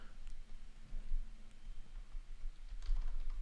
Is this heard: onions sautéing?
no